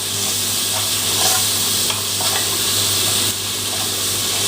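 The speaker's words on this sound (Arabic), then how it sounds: "احمرها كده في شويه الزيت" Chopped garlic frying in a little oil in a pan, a steady close sizzle and crackle with a few faint stirring scrapes, no talk.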